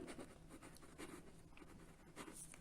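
Pen scratching steadily across paper while writing out a matrix row operation for a class 12 maths exercise, a continuous close scraping texture with small bursts of strokes throughout.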